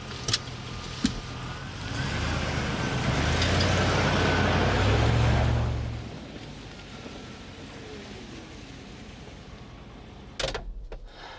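A car's engine swells and rumbles steadily as it drives past or pulls away, then fades to quiet. Sharp clicks and a door-like clunk follow near the end.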